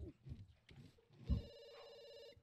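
A phone in the video game The Sims 2 starts ringing partway through with a sustained electronic tone, heard under soft background game sounds and music.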